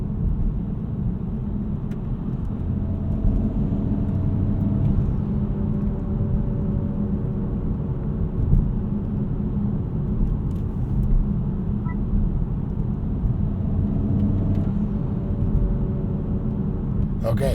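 A 2024 Honda Civic Si cruises on a night drive with a steady interior engine drone and road rumble. The level stays even throughout, with a few faint clicks and no sharp revs.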